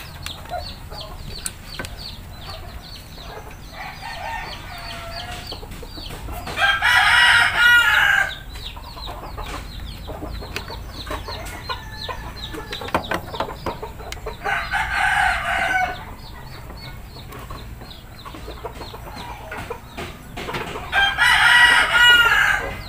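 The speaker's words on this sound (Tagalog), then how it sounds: "Marami tayong manok dito." Roosters crow repeatedly over a steady background of chickens clucking, with a few loud crowing bursts spaced several seconds apart.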